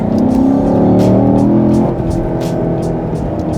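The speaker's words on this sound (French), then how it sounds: "Bon, c'est bien quand même, hein, on l'entend le V8" A Chevrolet Camaro V8 on its stock exhaust accelerates hard, a loud, deep engine roar climbing in pitch before easing slightly with a gear change, heard close up from inside the car.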